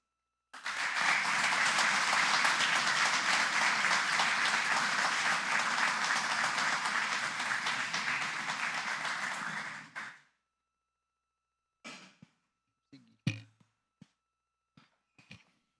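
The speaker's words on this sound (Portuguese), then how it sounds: "Então a salva de palmas para encerrar é para todos vocês" Audience applause at an honorary ceremony for a Presbyterian church in Brazil, a full, even burst of clapping lasting about ten seconds before cutting off, followed by a few scattered taps and knocks.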